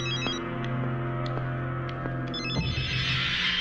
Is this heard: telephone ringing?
yes